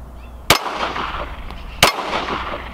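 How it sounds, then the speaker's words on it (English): Two sharp 9mm full metal jacket pistol shots crack out about a second and a half apart, each a loud broadband burst over low background rumble, fired at a target and a hard hat. "it's gonna be a 9mm full metal jacket, three rounds,"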